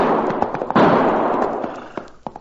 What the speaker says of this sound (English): Did you hear what I heard? Not only did I hear those gunshots, Cherokee, but now I can see where they came